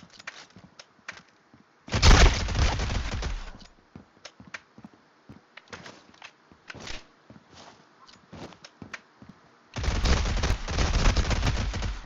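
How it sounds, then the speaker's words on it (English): Bursts of rapid automatic gunfire from a Vector submachine gun in a video game, two loud sustained strings with scattered single shots and footsteps between them. "let's try a new gun"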